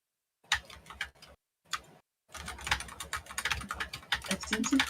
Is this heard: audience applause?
no